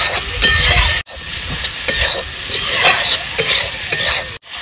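Rohu fish frying in a pan for a pointed gourd curry, a loud steady sizzle broken by bursts of spatula stirring and scraping, with one brief drop to near silence midway.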